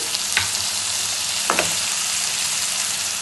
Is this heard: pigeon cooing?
no